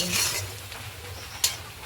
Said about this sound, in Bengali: আমাদের এইদিকে পেঁয়াজ ভাজা হয়ে গেছে